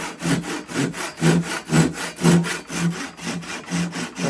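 A small handsaw cutting down into wood, a close, rhythmic rasp of about eight strokes in quick back-and-forth succession, each stroke a short gritty burst.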